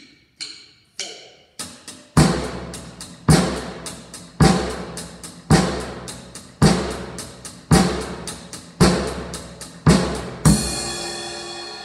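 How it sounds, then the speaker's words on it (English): A rock drum beat with the bass drum hitting on two and four together with the snare: a few sparse opening hits, then a steady, loud run of evenly spaced drum strikes with cymbal wash, ending in a ringing cymbal. "I can have the bass drum play on two and four with the snare drum."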